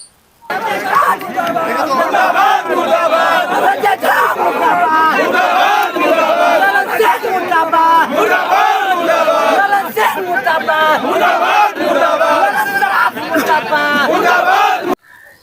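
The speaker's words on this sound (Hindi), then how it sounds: "जेडीयू के कार्यकर्ता नेतागण नारे लगा रहे हैं" JDU party workers chant slogans against Nitish Kumar and other party leaders, a loud, dense crowd roaring continuously in rhythmic shouts for about fifteen seconds, voices overlapping without pause.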